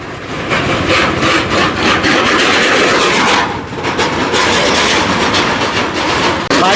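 Vehicles speed across a bridge built by the Indian Army, producing a loud, continuous rattling roar with a clattering, rumbling texture, a brief dip midway and no voices.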